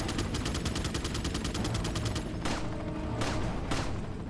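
Gunshots in Resident Evil 4: a rapid, evenly spaced string of small shots, then two loud, heavy Magnum blasts about a second apart, each ringing out briefly, with no voices.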